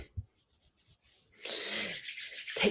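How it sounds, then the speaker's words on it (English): After a few faint taps, hands begin rubbing together rapidly, a close, breathy friction sound that swells and continues for about a second. "Rubbing the hands. Just doing it really, really fast."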